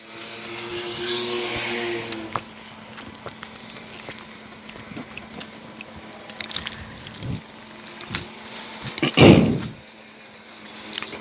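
Stock cars racing in a 20-lap event on a short oval track roar past, with engine drone and whooshing passes rising and fading, and one loud car sweeping close by near the end.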